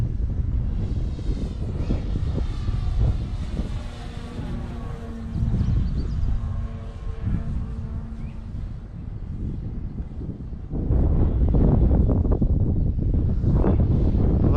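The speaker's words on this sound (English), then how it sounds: "You can just hear the wind in the distance." Wind gusts across the microphone at an RC airfield where a Hobbyking Big Red Stearman model flies; a droning engine hums beneath the broad rushing noise, which grows louder and rougher near the end.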